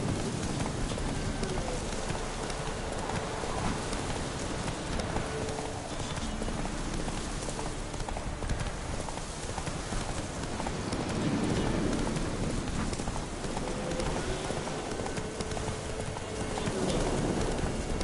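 Roach, the horse in The Witcher 3: Wild Hunt, drums a steady clip-clop of hooves at a gallop, kept up for the whole stretch under a broad, hissy wash of rain-like ambience.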